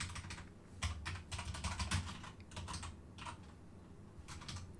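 Quick bursts of typing on a computer keyboard while writing game code, clusters of close keystrokes with short pauses between runs.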